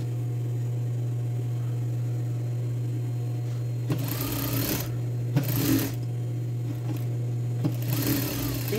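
Sewing machine stitching the side seam of linen women's trousers, a steady near hum running throughout, broken by several louder bursts of fast stitching that last about a second each, with no talking.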